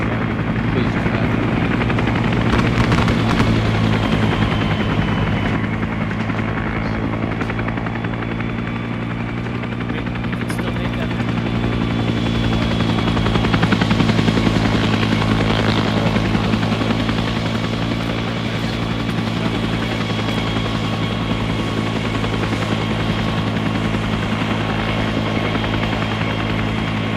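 Military helicopter in the game Arma 3, its rotor and turbine drone holding steady and loud for the whole stretch, with a high engine whine on top and occasional background voices.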